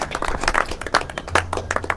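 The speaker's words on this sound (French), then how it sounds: "j'aimerais encore une fois de plus qu'il soit applaudi" An audience at a diploma ceremony applauds, a dense run of close hand claps with uneven rhythm that carries steadily for the full two seconds.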